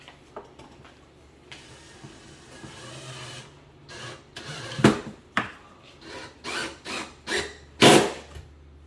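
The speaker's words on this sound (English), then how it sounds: "So we're putting this last screw in." A screw is driven by hand into a cabinet while a pull is installed, giving a series of close, uneven grinding creaks and squeaks in short bursts, each turn louder toward the end.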